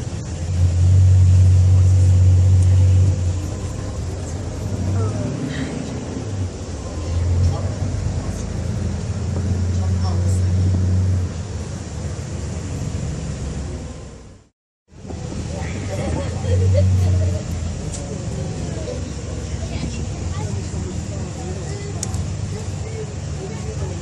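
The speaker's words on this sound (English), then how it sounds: "So this is, if you want, a driving panoramic tour of Tangier." A car rolls through the streets of Tangier, Morocco, its steady engine and road rumble loud and close inside the cabin, someone narrating throughout and a brief dropout midway.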